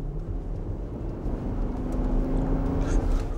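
A Nissan Patrol with a 5.6-litre V8 petrol engine runs with a deep, steady drone that swells slightly louder toward the end, a continuous close engine note without distinct rev peaks.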